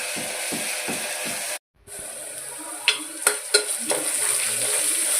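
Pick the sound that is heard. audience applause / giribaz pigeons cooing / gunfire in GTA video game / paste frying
paste frying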